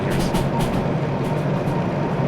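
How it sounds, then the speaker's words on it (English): A train in Derail Valley rolls and picks up speed downhill under engine braking: a steady, loud, heavy rumble with light rhythmic clicking and rattling on top. "I hear the train. I feel the train picking up speed."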